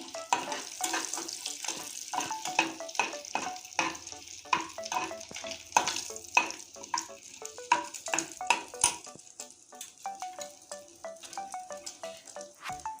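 Dried red chillies and bay leaves sizzle in hot oil in a pan, with crackling fry noise broken by repeated stirring clinks and scrapes of a spoon against the pan, close and clear.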